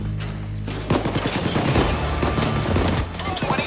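Dense bursts of gunfire meet a police assault in a heist video game, loud rapid overlapping shots and booms running continuously, with a voice briefly heard under the shooting.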